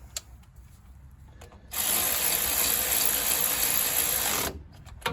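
Ratchet wrench with a 15 mm socket tightening a front wheel hub bolt on a 2003 Chevy Silverado 2WD, a loud, continuous rapid clicking that runs for about three seconds, close up, with no talk over it.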